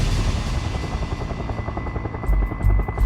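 A backcountry rescue helicopter, heard up close with its loud, steady thudding rotor beat and a constant engine drone, its low pulses growing heavier toward the end.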